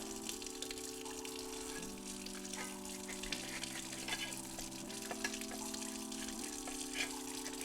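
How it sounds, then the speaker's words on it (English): Water runs steadily into or over an Instant Pot Duo Crisp during cleaning, a continuous faint gush with a low electrical hum and tones underneath and no talking. "Let me get a little water to it, clean it real quick."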